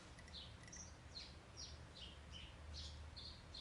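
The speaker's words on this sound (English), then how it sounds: "You can hear my birds, can't you?" Pet birds chirp outdoors in a string of faint, short, high tweets and calls scattered across a quiet background.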